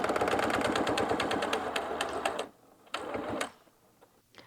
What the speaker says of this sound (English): You'll sew down the side and then zigzag across.